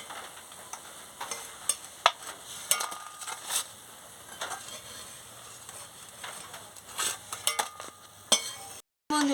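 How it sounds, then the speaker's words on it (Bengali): Pumpkin flower and snake gourd fritters fry in a pan, giving a soft continuous sizzle broken by scattered light clinks and stirring scrapes, heard close but quiet with no talking. "আমি এই যে ভেজে নিলাম, লাল লাল করে ভেজে নিয়েছি"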